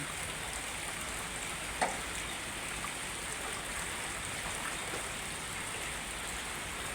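Continuous hiss of heavy rain pouring down, dense and even throughout, with one brief knock partway through.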